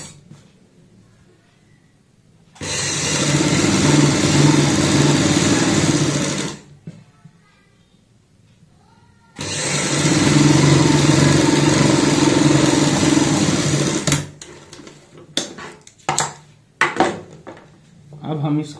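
A sewing machine stitches a neck strip onto a kurti in two long steady runs of fast, loud mechanical whirring, separated by a quiet pause, followed by scattered clicks and handling noises.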